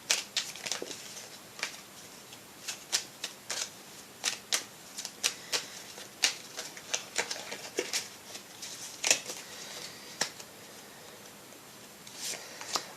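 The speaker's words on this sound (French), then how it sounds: "Je vais prendre une carte du petit oracle de l'arbre de vie." Cards from a small Tree of Life oracle deck being handled, a close run of quick crisp taps, flicks and shuffling snaps in an irregular rhythm over a quiet room, with no talking.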